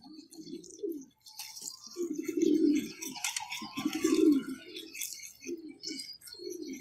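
Soft, low cooing of a pigeon chick with pigeon pox, in repeated short bouts, fairly close, with faint high chirps and background noise in between.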